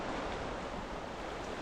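A river streams past in a steady, broadband rush, continuous and unbroken with no voices, close and fairly soft throughout.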